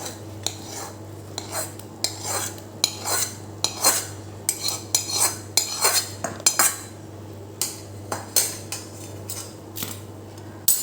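A metal spoon repeatedly scrapes and clinks against a pan while jaggery-ghee syrup is stirred into wheat flour churma, a rhythmic series of sharp close knocks over a faint steady hum.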